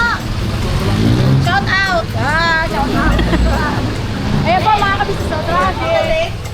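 Busy street traffic rumbles steadily under people talking nearby, with engine noise and a constant low hum of passing vehicles.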